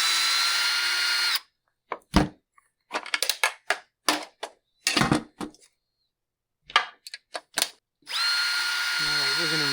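A power drill drives handle screws on a Husqvarna 372XP chainsaw: longer whirring runs at the start and end, with a series of short, close drill bursts and clicks in between.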